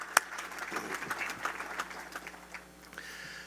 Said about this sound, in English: And give yourselves a big round of applause.